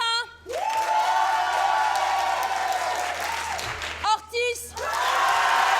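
Live improv festival audience clapping loudly and cheering in a theatre, sustained applause with whoops and shouts, briefly dipping then swelling again, with voices calling out over the clapping.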